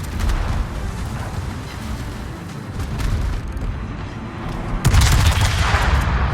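Secondary guns on a warship firing in a naval combat game: a steady rumbling barrage with a heavy boom near the end, loud, with no voices.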